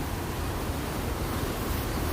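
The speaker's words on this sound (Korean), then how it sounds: "타연 계곡 물소리입니다." Rushing water of a valley stream at Dutayeon pours steadily and loudly, a broad, even roar with no other sounds standing out.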